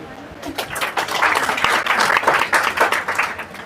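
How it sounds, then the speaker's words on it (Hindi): Audience at a business coaching talk applauding, a dense, loud burst of clapping that swells and holds for several seconds, with a voice briefly audible through it. "ताली बजाइए।"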